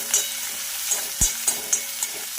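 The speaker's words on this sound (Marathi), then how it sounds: "याला छान असं फ्राय करून घ्यायचं आहे आपल्याला" Chopped green chilies and coriander fry in a pan with a steady, soft sizzle, punctuated by a few light stirring clicks and scrapes.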